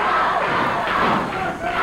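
A 1980 Memphis wrestling arena crowd roars and cheers continuously, a dense, loud wash of voices that swells and dips slightly without pause.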